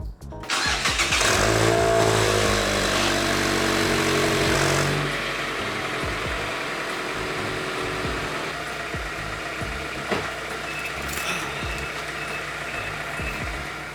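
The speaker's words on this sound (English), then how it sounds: "let me hit y'all with a cold start" A 2017 Mazda MX-5 Miata RF makes a cold start: the starter turns briefly, then the engine catches with a loud rev that settles after a few seconds into a steady, fairly high fast idle, heard close and alone.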